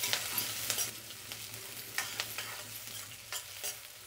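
Chillies and other ingredients frying in a pan, a steady sizzle broken by scraping stirs every half second or so, close and fairly loud, without talk.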